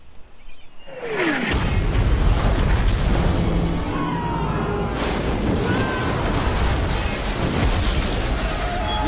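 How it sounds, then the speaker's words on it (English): An aircraft carrier explodes in Saints Row The Third: a loud, sustained roaring blast that swells after a quieter opening and keeps rumbling with crackling debris and secondary bursts. "We just blew up an aircraft carrier."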